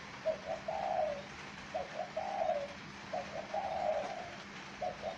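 A spotted dove repeats its cooing call three times in a steady rhythm, each a short stuttered lead-in followed by a longer rolling coo, clear and fairly close in a quiet setting.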